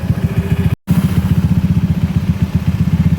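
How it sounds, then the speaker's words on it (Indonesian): A Honda Vario 110 scooter engine idles cold, close by, with a fast, even low putter of firing pulses that is briefly cut off for a moment. "Mesin sudah dinyalakan tapi belum panas."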